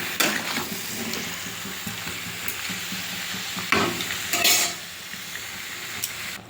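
Marinated chicken sautéing in a pan for a Bengali curry, with steady sizzling and frying hiss broken by a few louder bursts of stirring and scraping, close and continuous with no talk.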